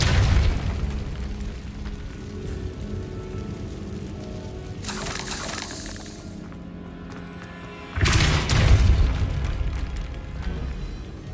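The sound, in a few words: Incendio fire spell in Hogwarts Legacy video game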